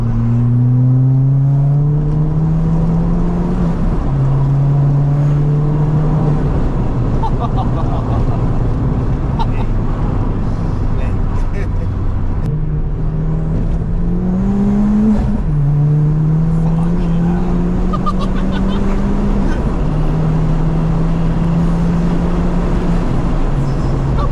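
Stage 3 big-turbo Ford Fiesta ST engine droning loud and close from inside the car, revving through several gear changes as it accelerates, with occupants talking over it.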